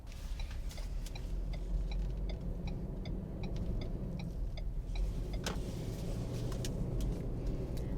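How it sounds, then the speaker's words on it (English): A 2019 Ford Ranger Lariat 4X4 SuperCrew pickup makes a full U-turn, its engine a low steady hum from inside the cab, with faint ticking like a turn signal clicking throughout. "I'm going to do a full U-turn here and check out the turning radius of this truck"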